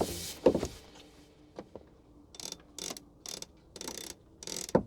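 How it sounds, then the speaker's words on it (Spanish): A used sailboat's winch ratchets in close, clear bursts, a few sharp clicks followed by a run of five or six rhythmic ratcheting pulses with short pauses between. "Para mí los winches deben sonar parecido al ruido que hace una llave de carraca"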